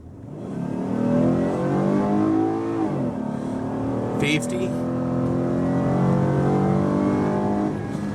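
A 2012 Ford F150 pickup with a long bed and a 302 hp V-6 accelerates on the road, its engine note rising steadily and close from inside the cab while the driver talks over it.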